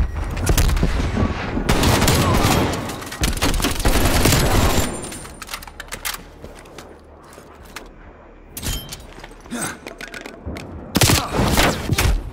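Semtex grenade thrown and detonating during a free-for-all match on Garrison in Call of Duty: Black Ops Cold War, loud blasts and gunfire bursts crowding the opening seconds, then quieter game noise before more sharp bangs near the end.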